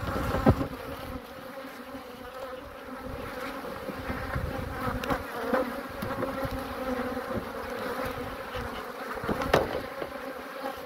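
Honey bees swarm around an open, crowded oval beehive during a summer honey harvest, a dense, steady buzz close up with individual insects droning past.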